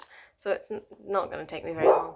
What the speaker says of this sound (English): I apologise for my dog.